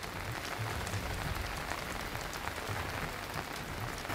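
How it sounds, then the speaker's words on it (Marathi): Heavy monsoon rain pours steadily in Khed, Ratnagiri, a dense, continuous hiss of drops on surfaces with no breaks and no voices. "खेडमध्ये सकाळपासूनच मुसळधार पाऊस पडतोय"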